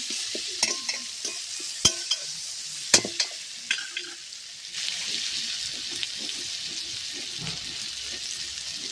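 Chopped medium onion sizzles in oil for a Bengali bhola fish oil curry, opening with several sharp spoon knocks and scrapes against the pan, then settling into a continuous loud frying hiss as it is stirred.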